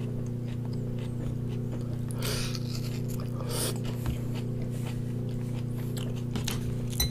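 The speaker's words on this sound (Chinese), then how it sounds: "尝一下洋葱。" Close chewing and biting of onion eaten with a Jamaican-style chicken leg, soft crunchy bites at irregular intervals over a steady low background hum.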